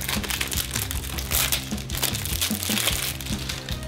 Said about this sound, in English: So, to start by opening the cellophane,